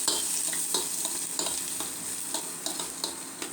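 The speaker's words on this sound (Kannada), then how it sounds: "ಈಗ ಅದಕ್ಕೆ ಸ್ವಲ್ಪ ಸಣ್ಣದಾಗಿ ಕಟ್ ಮಾಡ್ಕೊಂಡಿರುವಂಥ ಈರುಳ್ಳಿನ ಸೇರಿಸೋಣ. ಈರುಳ್ಳಿ ಸ್ವಲ್ಪ ಫ್ರೈ ಆಗಿ" Finely chopped onions fry in hot oil for a green pea masala kachori filling, a steady close sizzle broken by repeated scraping stirs, no voices.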